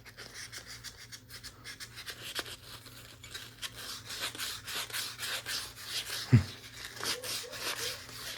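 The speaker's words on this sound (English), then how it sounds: "I'm gonna use a little sandpaper on this." Sandpaper scrubbing crud off a part of a Singer 401A sewing machine, a close, fairly quiet back-and-forth rasping in uneven strokes, with one sharp knock of the part partway through.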